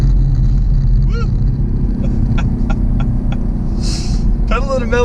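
A 2018 Chevy Camaro SS under hard acceleration gives a steady, loud low rumble throughout, with brief voice sounds and cabin noises breaking in over the engine drone.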